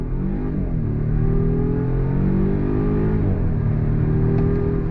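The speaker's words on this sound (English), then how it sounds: "we're gonna go on throttle in power mode" Inside a 2023 Volvo XC90 Recharge plug-in hybrid SUV accelerating hard in power mode, a loud, continuous engine drone rises steadily in pitch, with the electric motors helping, and no talking over it.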